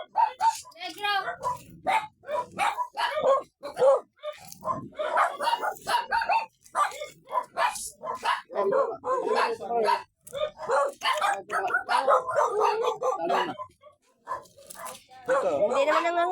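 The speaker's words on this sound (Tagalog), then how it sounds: "May ibang aso." A dog barks and yips repeatedly, close by, in short bursts with some whimpering, while people talk over and between the barks.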